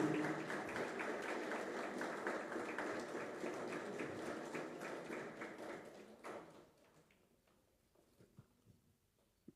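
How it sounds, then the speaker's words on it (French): Applause from a ceremony audience at the installation of a new director general of civil protection, dense and sustained for about six seconds, then thinning out into a few scattered claps and quiet room noise. "Sous vos applaudissements, mesdames, messieurs."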